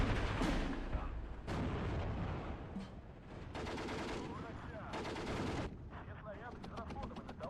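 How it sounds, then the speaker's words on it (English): Maxim machine guns rattle in the Steel Division 2 wartime strategy game, loud bursts of rapid automatic fire mixed with sharper booms and artillery cracks, stopping and restarting in several overlapping volleys. "our Maxims will utterly destroy them."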